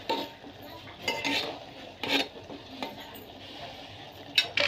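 Maggi noodles are stirred in a pot on a home stove, with a few scraping strokes and light metallic clinks of the spoon against the pot over a faint background hiss.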